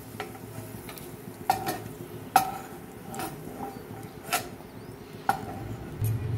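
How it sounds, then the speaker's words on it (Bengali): Fried cashews and raisins lifted out of hot oil with a metal spoon, several sharp clinks against the pan over a soft, steady sizzle. "কাজু কিশমিশটা ভাজা হয়ে গেছে, আমি এটা তেল থেকে তুলে নিচ্ছি।"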